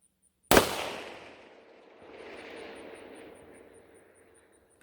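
A single rifle shot fired at a long-range target cracks sharply and loud, followed by a rolling echo that fades over several seconds across open ground.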